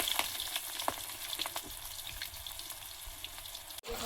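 Chopped onions frying in hot oil with dried chillies, bay leaves and whole spices, a soft steady sizzle with light crackling pops and brief stirring clicks, fairly quiet and close, ending in a sudden cut.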